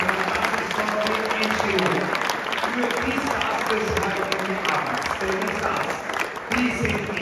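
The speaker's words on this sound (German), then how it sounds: "Darf ich einmal einen Applaus bitten, einen ersten Applaus nur einmal" Live gala audience applause at an apprentice awards evening, continuous clapping filling the hall with voices talking over it throughout.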